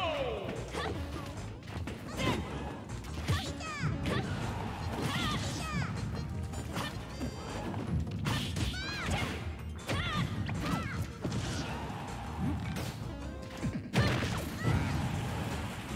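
Super Smash Bros down smash attacks landing in a busy match, a run of sharp crashing hits and whooshes over constant game music and effects, with a voice occasionally talking.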